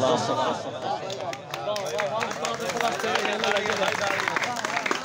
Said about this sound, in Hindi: और जोर तालियां